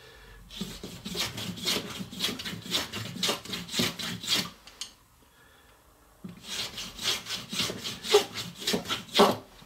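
A wooden chopstick blank is hand-tapered toward an octagon point, giving steady rhythmic rasping strokes of a file or blade on wood, close and distinct, pausing briefly midway before the strokes resume.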